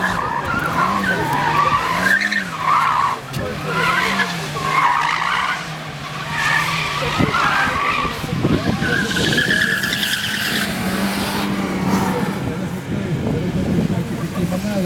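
A car skids repeatedly through driving manoeuvres on a training course, tyres squealing in rising and falling waves over engine noise, with people talking underneath.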